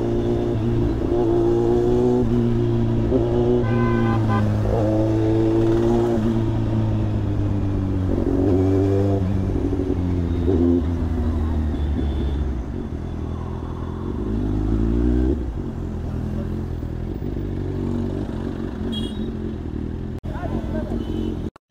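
A Kawasaki ZX-10R motorcycle being ridden on the road, its engine droning loudly throughout and rising and falling in pitch as it revs and shifts, with wind noise and people talking over it.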